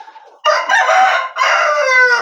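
A farm rooster crows loudly and close by in two long, strained calls, with faint clucking before and between them.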